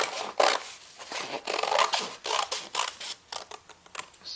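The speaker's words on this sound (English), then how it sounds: "So I'm just going to cut" Scissors snip through paper for a collage, a run of close, crisp cuts in uneven bursts with short pauses between strokes, heard alone without any talking.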